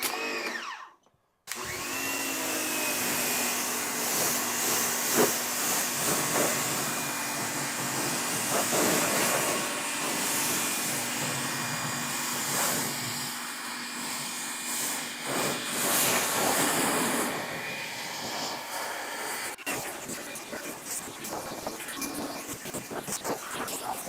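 An AVA of Norway pressure washer sprays through a 40-degree tip, a loud, steady broadband hiss and rush of water that starts abruptly after a brief silence and runs on continuously, with no voices.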